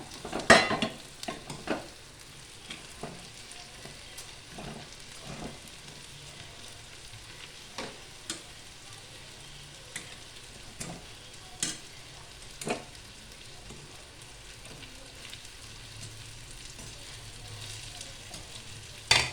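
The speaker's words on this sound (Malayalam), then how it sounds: "അടുത്തത് ചിക്കന് ഇതിലേക്ക് ഇട്ട് കൊടുക്കുക. അത് നന്നായിട്ട് ഇളക്കുക." Chicken pieces stir-fried in a pan for chicken kondattam make a soft, continuous sizzle with repeated scraping stir strokes and light clinks of the utensil on the pan, with no voices.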